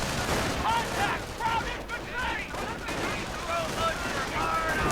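Mortar fire and gunfire from a strategy video game battle rumble on without a break, a dense bed of booms and crackling shots with a few faint voices barely audible underneath.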